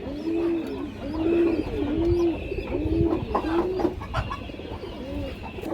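Kaldom and high-flyer pigeons coo in a steady, repeated rhythm, one low throaty coo roughly every second, close by against a busy background of other birds and chatter.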